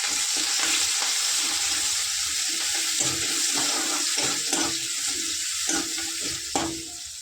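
Ridge gourd curry with garlic and coriander sizzles in a pan as a spoon stirs it, a bright steady hiss broken by scraping strokes close by, and no one talks.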